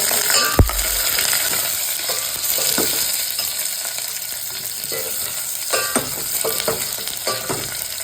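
Onion fries in a pan with a constant loud hiss and crackle, broken by a sharp knock at the start and scattered utensil scrapes and taps from stirring, heard up close.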